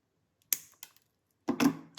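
Wire for holiday tassel earrings is trimmed with cutters, producing sharp close clicks and snaps, then a louder cluster of crisp snapping as a cut piece shoots off.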